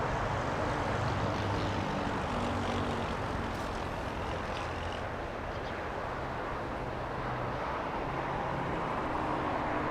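Airplane engines roar at the LAX runway as a Virgin Atlantic jet readies for departure, a steady, broad, distant rumble holding evenly throughout with no voices.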